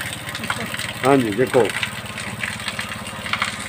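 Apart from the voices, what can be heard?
motorcycle engine idling while driving a water pump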